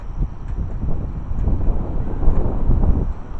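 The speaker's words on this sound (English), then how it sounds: "It's getting windy." Steady wind gusting outdoors during a severe thunderstorm in Van Buren County, Michigan, a continuous low rumbling whoosh with buffeting against the microphone, rising slightly in the second half.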